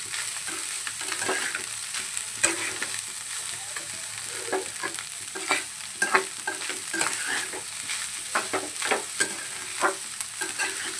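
Rice seasoned with salt and ground black pepper is stir-fried in a wok, a steady background sizzle under frequent sharp clatters and scrapes of a spatula, close and fairly busy, with no speech.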